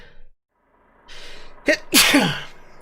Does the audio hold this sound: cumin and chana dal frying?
no